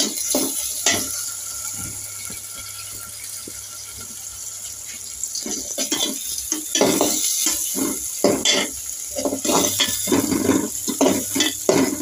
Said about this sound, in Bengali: আজকে এটা আমার শাক ভাজি হয়ে যাচ্ছে